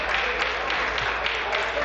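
A legislature chamber fills with steady, dense applause during question period, a continuous crowd patter of many hands clapping at once.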